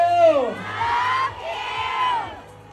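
Fan crowd at a mall event in Bangkok yelling a chant together, a loud massed roar of voices with a rising-falling whoop at the start, sustained shouting over a low hum.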